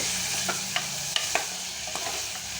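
Small onions sizzle steadily in hot oil in a pan while a spoon scrapes and stirs, giving a few sharp clinks against the constant frying hiss.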